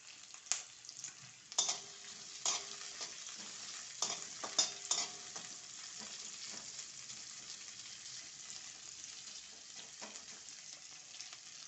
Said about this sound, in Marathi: जास्त करपवायचं नाही आहे फक्त आपल्याला गुलाबी होईपर्यंतच शेकवायचं आहे